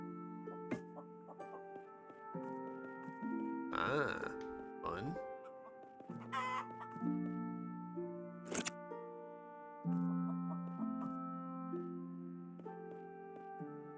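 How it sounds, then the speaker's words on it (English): Chicken clucking in the video game Phoenotopia, a run of short clucks and squawks over layered game music, while someone talks briefly over it. "Ah, another chicken?"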